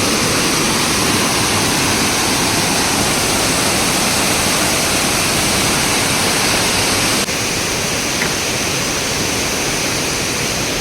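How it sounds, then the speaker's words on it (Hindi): Kerling Falls near Cherrapunji in Meghalaya, white water pouring under pressure, a loud continuous roar of rushing and crashing water filling the scene without pause. "ये है केरलिंग फॉल, बहुत ज़्यादा ही प्यारा है ये व्यू।"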